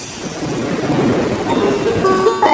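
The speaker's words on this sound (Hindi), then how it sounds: "अरे अभी दवाई बनाने का समय ही नहीं मिला और बारिश शुरू हो गई।" Heavy rain pours steadily with a low rumble of thunder beneath it, loud and close, forming a continuous storm wash.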